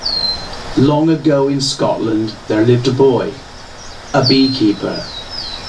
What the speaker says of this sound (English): basically is just forest ambience. It's just the ambience of a forest recorded.